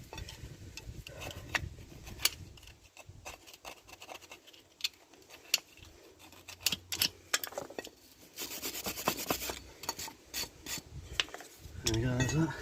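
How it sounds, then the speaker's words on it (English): Scraping muck off a Rover 75 brake disc, a faint series of irregular rasping scratches and small metallic clicks, close by, with brief bursts of grinding friction and no talking. "I'll just scrape the muck out."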